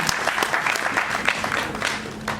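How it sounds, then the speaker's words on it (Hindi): Audience applause fills a Bollywood musical night, a dense burst of clapping from a seated crowd that carries on steadily for a few seconds. "तो एक बार जोरदार तालियां"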